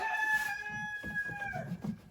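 A hen calls out near the start, followed by low, soft clucking sounds that continue steadily for a couple of seconds, from laying hens in the evening.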